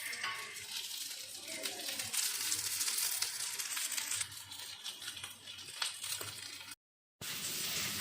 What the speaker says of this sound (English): Keep it in a medium flame and fry it.